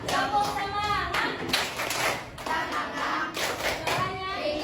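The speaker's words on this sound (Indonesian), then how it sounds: "kita tepuk semangat dulu yuk" A school class claps a rhythmic cheer, with several bursts of hand claps in a pattern. Children's voices and chanting run through and between the claps.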